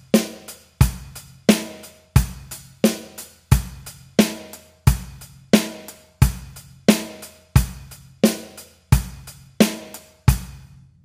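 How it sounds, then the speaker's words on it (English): An eighth-note rock beat played alone on a drum kit, with hi-hat eighths, bass drum on beats one and three and snare on two and four, steady, close and clear, repeating evenly for several bars. "8th notes being played on the hi-hat with the right hand."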